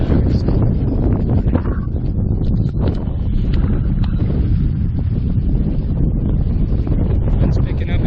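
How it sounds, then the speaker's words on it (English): Strong wind buffets the microphone on a canoe trip, a constant loud low roar that stays steady throughout with no pauses. "Wind's picking up a bit"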